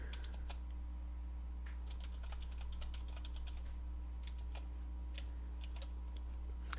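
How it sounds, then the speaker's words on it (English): Keys clatter on a computer keyboard in quick irregular bursts of faint clicks, with short pauses between them, over a steady low electrical hum in a quiet room. "So I'm just going to type it first"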